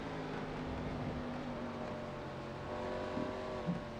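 Stock car in a sim racing video game rolling into the pit lane, a steady, moderately loud engine drone with a faint rise in revs near the end, no commentary audible.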